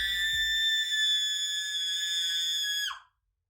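A high, piercing scream from the video game Danganronpa: Antebellum holds steady and loud for about three seconds, then cuts off sharply into silence.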